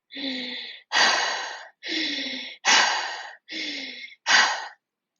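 A voice imitates monstrous panting: six heavy, rasping breaths, in and out, evenly spaced and close, with no other sound.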